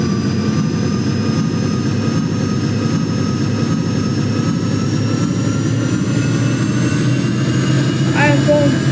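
Boeing 737-800 in a flight simulator game rolling down the runway for takeoff, a loud steady jet engine roar with a rising whine, continuous and close throughout.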